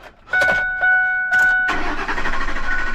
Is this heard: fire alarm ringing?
no